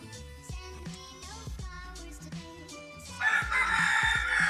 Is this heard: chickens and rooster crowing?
yes